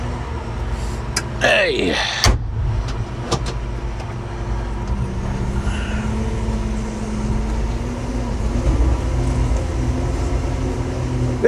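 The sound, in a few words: Kobelco CKE2500G crawler crane driving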